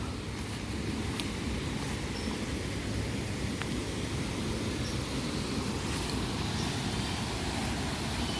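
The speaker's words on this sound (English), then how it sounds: "This one sounds like it's almost a full-fledged waterfall." Steady, dense rush of a distant waterfall, a continuous broadband roar with no breaks, moderately loud and even from start to finish.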